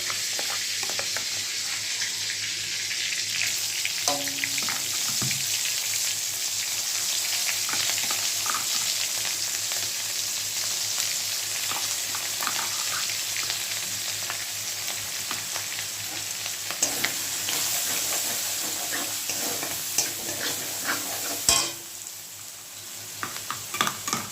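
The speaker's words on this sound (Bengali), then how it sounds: "মশলাটা ভালো করে কষাবো" Spice paste with curry leaves and dried red chillies sizzles steadily in a pan for doi begun, an aubergine-and-yogurt dish. A spoon stirs and scrapes throughout, with occasional clinks near the end.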